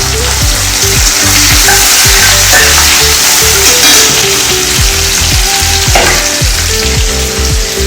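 Onions sizzle steadily in hot oil for a Sunday mutton curry, a loud, continuous close-up frying hiss with occasional stirring scrapes and clatters throughout.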